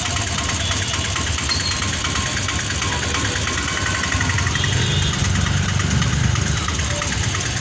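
Steady low rumble of idling engines in a traffic jam in Barisal city fills the whole stretch, a continuous mechanical drone with faint background traffic and no voices.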